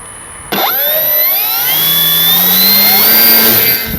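A model Avios Kobuz RC plane's engine whines up sharply after a brief lead-in and then holds a loud, steady, rising high-pitched drone close by as the throttle is advanced past half.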